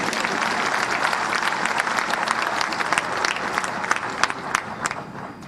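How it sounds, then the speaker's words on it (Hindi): Dense, steady applause from an audience at a grand welcome ceremony honouring newly elected mayors and councillors in Haryana, with sharp individual claps standing out near the end. "बजाओ ताली जोर से।"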